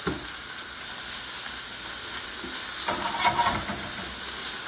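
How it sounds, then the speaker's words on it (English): A ribeye steak sizzles loudly in a hot pan while melted butter is spooned over it, a steady close frying hiss with scraping and spattering bursts as the basting picks up. "I'm going to add butter. Start basting."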